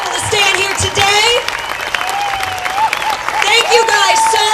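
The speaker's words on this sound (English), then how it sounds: "Can we please give our veterans a big old round of applause?" An audience applauding veterans at a 9/12 rally, a crowd clapping and cheering steadily while someone speaks over it through a loudspeaker.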